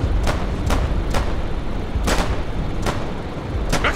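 Bazookas firing in the WWII shooter game Day of Infamy: repeated sharp, booming shots at irregular intervals over constant loud rumbling battle noise, with no talking.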